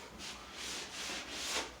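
A damp sponge is rubbed over dried drywall joint compound during wet sanding, giving a soft, steady scrubbing hiss that swells and fades with each stroke, close and quiet, with no talking.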